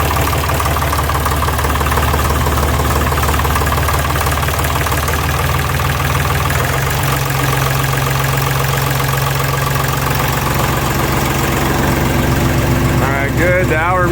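Deutz Fahr D4506 tractor diesel engine running at a steady, loud idle throughout, with a low knocking rumble that shifts pitch partway through and a brief metallic rattle near the end.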